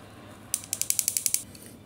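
Screws being tightened on a ceiling fan's wiring give a quick run of about nine close, crisp ratcheting clicks in an even rhythm, preceded and followed by quiet.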